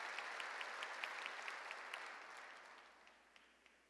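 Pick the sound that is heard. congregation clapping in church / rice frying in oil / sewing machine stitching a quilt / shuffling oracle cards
congregation clapping in church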